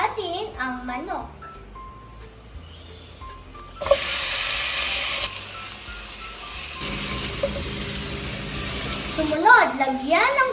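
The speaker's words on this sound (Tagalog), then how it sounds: "Sumunod, lagyan ng tubig at pakuluan." Water pours into a chicken tinola pot with a rushing splash of several seconds that then settles into a quieter flow, a voice talking at the start and end.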